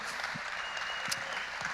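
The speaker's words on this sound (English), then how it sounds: "a big round of applause for the ministry and efforts that they're doing" Applause from a church congregation for a storehouse ministry team, a dense steady wash of many hands clapping at moderate level with no voices over it.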